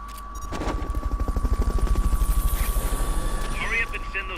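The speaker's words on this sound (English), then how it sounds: "Fulton recovery helicopter is complete." Rotor thumping of the Fulton recovery helicopter in the video game Metal Gear Solid: Peace Walker, a rapid, steady chopping pulse that builds and holds near and loud, with a constant tone and voices over it.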